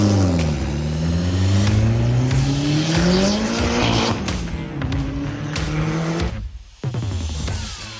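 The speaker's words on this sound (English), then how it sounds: "That is his Mitsubishi Eclipse. Definitely boosted, definitely making a lot of power." A boosted Mitsubishi Eclipse engine revs hard and loud, pitch climbing and dropping through gear changes, with a brief dip near the end before roaring again.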